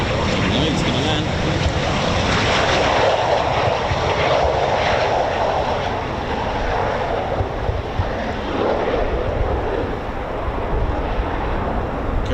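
A Eurofighter Typhoon FGR4 fighter jet coming in to land at RAF Coningsby produces a loud, continuous engine roar and broadband rush that holds steady throughout, with people talking over it.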